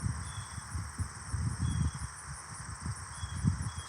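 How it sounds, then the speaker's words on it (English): Crickets chirp steadily outdoors beside a bass pond, a thin continuous high trill held at an even level over soft low rustling and handling bumps. "You can hear the birds, you can hear the crickets."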